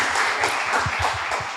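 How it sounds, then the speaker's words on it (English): A crowd applauds with steady, dense clapping from many hands, fairly close and loud, with no talking. "Give a big round of applause to her."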